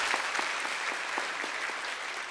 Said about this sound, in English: I'd like to clap them again. I know this is unfamiliar, but now we'll clap them right.